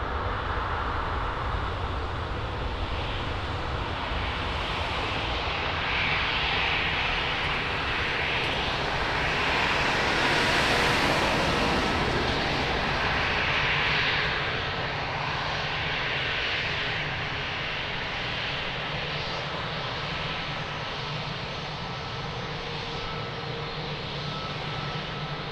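An airliner approaches runway 02 at Lisbon Airport, its engine roar building to a broad, loud swell near the middle and then easing into a sustained drone as it passes, continuous and without voices.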